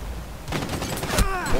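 Automatic gunfire in Rainbow Six Siege, a burst of fairly close shots in the second half after a quieter start, with a faint voice briefly in the mix.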